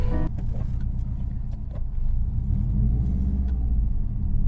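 A 2004 Subaru WRX with about 260 all-wheel horsepower pulls away, its engine a steady, close low rumble that builds slightly as it drives off, with no talking.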